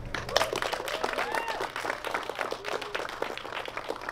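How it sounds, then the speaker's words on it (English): Steady applause from a sizable crowd at a ribbon cutting, continuous clapping at moderate level with a few scattered voices underneath. "another round of applause"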